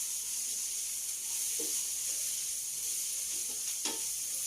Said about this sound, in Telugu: వేగినాయండి దొండకాయ, టమాటా, పచ్చిమిర్చి బాగా వేగినాయి